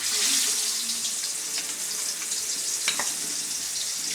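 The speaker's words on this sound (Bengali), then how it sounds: "এবার আমি এর মধ্যে মাছগুলো দিয়ে দেবো।" Fish pieces dropped into a pan of hot oil with a little turmeric, giving a continuous bright hiss and spatter with a couple of sharper pops, close by, without speech.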